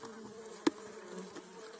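Stingless bees that collect geopropolis buzz around their hive in a soft, steady hum with a faint drone, broken by one brief sharp click.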